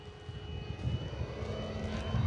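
A 65-inch OMP Hobby Bushmaster RC airplane with LED lights, running on 6S batteries, flies overhead with a steady electric motor and propeller whine that swells slightly as it passes, loud and continuous.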